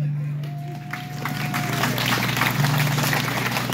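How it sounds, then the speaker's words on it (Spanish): Crowd applause for keyboard player La Marca de Oaxaca at a Virgen de Guadalupe celebration in Kerman, California, a dense rising patter of clapping over a low steady hum with a brief tone. "Que se escuchen los aplausos para mi compa La Marca de Oaxaca."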